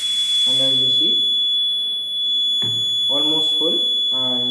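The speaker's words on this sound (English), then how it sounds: "here we have the alarm buzzing" A steady high-pitched electronic buzzer from a BC-547 transistor water overflow alarm sounds continuously as the tank nears full, with a person speaking over it at intervals.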